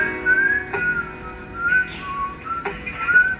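A clear melodic whistle carries a tune over soft instrumental backing, sliding between sustained notes.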